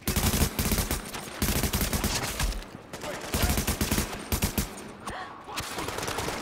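Dense automatic gunfire and sharp shots in the third-person shooter Tom Clancy's The Division, loud and near, firing in rapid sustained bursts with brief gaps between them.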